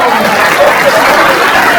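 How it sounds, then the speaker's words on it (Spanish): Loud applause from an audience at a Christmas event with a municipal music band, a thick continuous roar of clapping close to the listener, lasting under two seconds. "¡Fuerte aplauso!"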